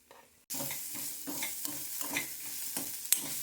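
Ginger garlic paste and potatoes fry in a pan, bursting into loud steady sizzling after a quiet start, with rhythmic stirring strokes scraping through the hiss.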